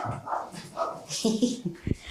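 A dog being fed whimpers, yips and gives short barks close by, mixed in with a person talking over it.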